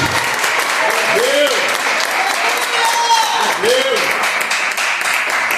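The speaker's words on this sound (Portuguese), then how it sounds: "Você pode aplaudir a Jesus por causa do que ele fez no Calvário." A church congregation applauds in a sustained, loud wash of clapping, while a voice rises and falls over it.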